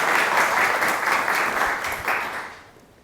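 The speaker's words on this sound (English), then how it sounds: "Give her a warm hand of applause, Dr. Naomi Oosterman." An audience claps steadily and warmly, a dense wash of applause that gradually fades out toward the end.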